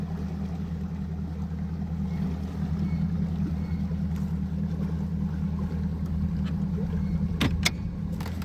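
A fishing boat's outboard motor hums steadily at close range as the boat turns around on Lake Lanier, a constant low drone with faint splashes and rattles.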